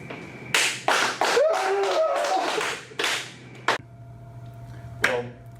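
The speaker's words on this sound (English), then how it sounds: "Why don't you give our guests a good round of applause?" A handful of sharp, sparse claps ring out for guests, separate loud smacks spaced unevenly with pauses between, and a voice speaks briefly amid them.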